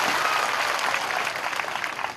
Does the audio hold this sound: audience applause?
yes